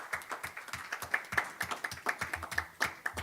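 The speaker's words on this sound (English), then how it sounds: "Can we give these students a round of applause?" Light applause for students at a school board business meeting, a thin scattering of claps in an uneven rhythm, fairly faint and heard without talk over it.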